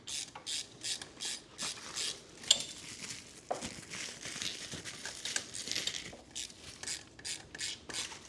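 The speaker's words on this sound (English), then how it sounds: "We're gonna have to tighten this up and then loosen it back up again to get the bolt on." A ratchet wrench tightens a bolt on an off-road go-kart, giving a steady run of close, crisp clicking bursts in a regular rhythm, with a few metallic clinks in between.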